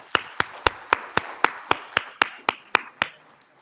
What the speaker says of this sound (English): Please join me through a warm and a loud round of applause for all those who are responsible for making it happen.